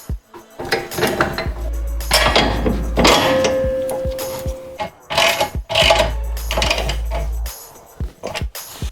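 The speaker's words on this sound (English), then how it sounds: "Now what you're going to need is the jack underneath here to recompress the spring" A jack works under a Ford Focus Mk1 to recompress a new lowering spring, giving repeated metallic ratchet clicks, clanks and scrapes in close, uneven bursts with short pauses between them.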